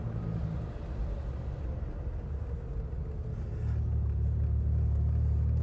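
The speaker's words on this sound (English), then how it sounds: "You can feel that mighty turbo kicking in back there" A 1964 Chevrolet Corvair with a turbocharged engine drives and accelerates, its steady low engine rumble swelling louder toward the end, heard from inside the car with no talking.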